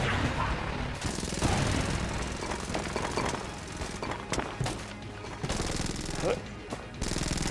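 Dense, rapid gunfire from the video game Enter the Gungeon, loud and nearly continuous bursts with crashes mixed in, with a player's voice reacting over the shooting.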